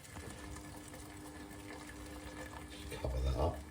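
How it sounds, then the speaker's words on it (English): Boiling water from a kettle poured into a stew pot of beef bones, a continuous close splashing and gurgling pour that swells louder and heavier near the end, with no talking. "Right, second kettle of water."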